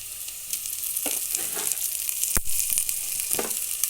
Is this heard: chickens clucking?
no